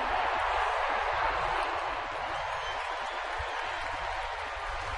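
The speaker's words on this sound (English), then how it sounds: "High fives and applause" Steady crowd applause fills a baseball stadium during an Oakland at San Francisco game, a dense, continuous wash of clapping and crowd noise at constant loudness with no clear pauses.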